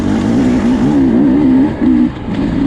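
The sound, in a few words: 2024 Beta 250 RR dirt bike engine while riding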